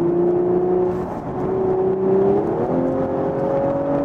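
An Audi S5 coupe TFSI with mechanical all-wheel drive speeds up on the road, its steady engine drone heard from inside the car and climbing in pitch as it gains speed.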